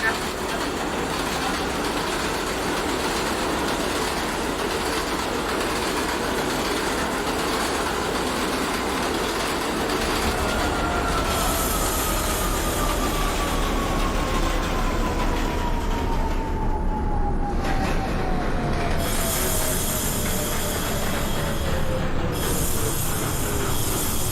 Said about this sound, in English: This is the 736 train bypassing Canal Street.